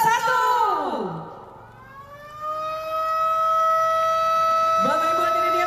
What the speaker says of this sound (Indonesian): dengan penekanan tombol sirene ini